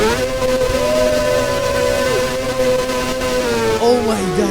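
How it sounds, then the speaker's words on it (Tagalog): A Ninja superbike's engine in the Roblox game Drag Drive Simulator revs high and steady, its harmonic whine rising and dipping as the RPM climbs and falls near the end, loud and close. "Oh my God, tunog big bike talaga, boy! Grabe pag pag nagre-render yung RPM."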